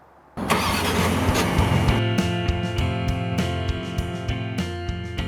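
A 2020 Lincoln Aviator Reserve engine starting after a quiet moment, then idling close by with a steady hum and a recurring light ticking or chiming.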